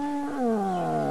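A voice imitates a cat's meow in a single drawn-out, nasal, falling wail, loud and close, with no other sound around it.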